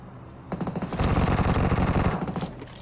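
In PUBG Mobile, a loud, rapid burst of automatic gunfire starts abruptly and rattles on steadily for about two seconds before tapering off.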